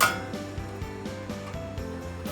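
Salmon pan going into the oven: a faint metallic clink at the start, then a series of light, irregular clanks and rattles of metal and glass at close range.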